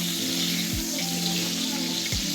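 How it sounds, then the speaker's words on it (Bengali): Pointed gourd (potol) frying in a pan makes a steady, moderately soft sizzling hiss, broken by two dull low knocks. "তো আমি এখানে পটল ভাজছি।"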